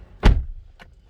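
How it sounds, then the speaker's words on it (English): A 2011 Skoda Superb 1.8 TSI car door swings shut with one solid, close thump, followed by a fainter latch click about half a second later. "So we'll first close the door"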